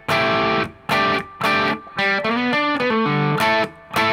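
A distorted electric guitar plays the intro figure of a song, with punchy chord stabs separated by short gaps and then a quick run of single notes, loud and with no voice.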